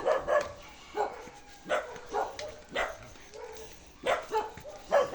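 Several dogs barking in a rural mountain province, a string of short sharp barks and yips at irregular intervals, moderately close and fairly loud, with no talking over them.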